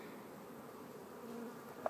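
Honey bees hum in a soft, continuous buzz, steady and fairly close, with a faint click near the end.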